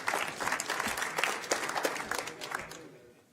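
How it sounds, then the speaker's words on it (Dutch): Audience applause after a Dutch municipal candidates' debate, a dense patter of clapping hands at moderate level that fades away at the end, with faint crowd murmur beneath. "Applaus."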